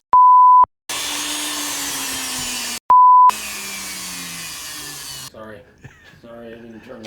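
A phone sounds two loud, sharp electronic notification beeps a couple of seconds apart. Each is followed by a whirring mechanical drone, and a voice starts talking at the end.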